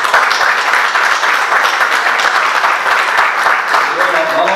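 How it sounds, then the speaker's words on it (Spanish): Audience applauding at a poetry prize event in the Real Casino de Murcia, steady dense clapping from a crowd throughout, fairly loud and continuous with no break. "Pues un aplauso y bienvenido."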